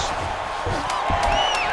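A crowd cheers in EA Sports UFC 5 during an MMA bout as the fighters scramble back to their feet, producing a steady, dense arena roar that swells slightly toward the end.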